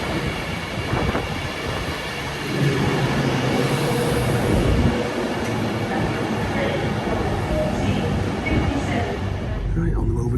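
An Avanti West Coast Pendolino train on the move, a steady loud rumble and broadband rolling roar that swells and stays constant throughout, heard from on board.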